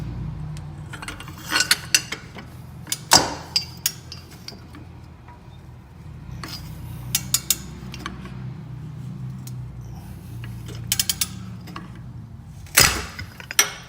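Sharp metallic clinks and knocks ring out as a jack bar breaks loose rusted exhaust studs on a 300ZX, scattered through the clip with a louder clank near the start and another near the end over low background noise.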